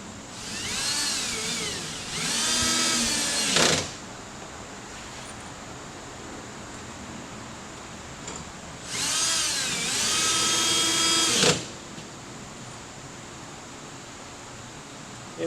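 A power drill whirs in two sustained bursts, about two and three seconds long, separated by quiet, as it drives fasteners for Ironweb wall mesh supports into wall studs; the motor whine is loud and close, with no talking.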